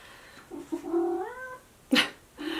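A cat lets out a drawn-out, wavering meow that rises and bends in pitch, followed by a short sharp burst of noise and a brief second cry.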